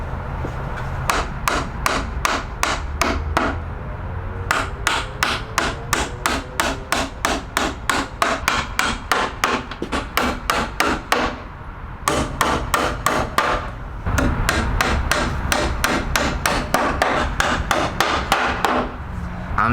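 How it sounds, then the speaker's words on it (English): Reused nails are hammered into pallet wood for a mountain-bike jump ramp, heard as fast, loud, evenly spaced strikes in several long runs with short pauses between nails. "I think I'm gonna reuse some of the good nails to stick this in"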